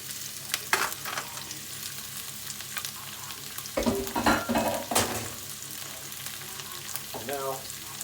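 Vegetables stir-frying in oil for a veg stir fry: a steady loud sizzle with occasional clatter and scraping as they are tossed in the pan.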